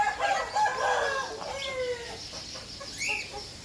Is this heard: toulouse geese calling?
yes